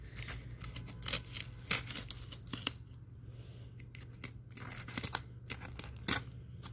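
Sharp clicks and crinkles come from a blade cutting along the sides of a cardboard box, close and fairly quiet, with no one talking.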